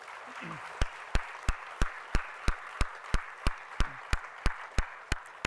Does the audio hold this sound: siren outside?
no